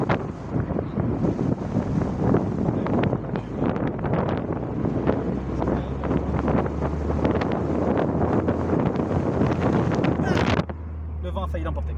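Heavy wind buffets the microphone during an outdoor drive, giving a loud, continuous roaring rumble with gusty surges that drops off sharply near the end.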